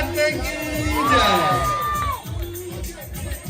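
Crowd at a Navratri prize distribution in Vikhroli joining a devotional chant, a loud collective cheer and whoop swelling over a steady rhythmic beat, with a voice on the microphone.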